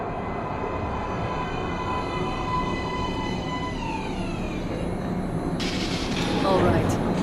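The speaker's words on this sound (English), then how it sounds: "Train coming in." Metro train pulling into an underground station in the Metro: Last Light video game, a rolling rumble with a descending whine as it slows, then a sharp hiss and brake squeal near the end.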